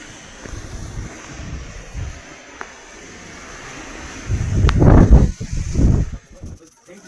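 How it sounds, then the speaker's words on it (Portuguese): A strong cyclone wind blows outdoors in Baixada Santista, a steady rushing roar buffeting the microphone that swells into heavy, booming gusts before easing off. "Olha o vento, gente."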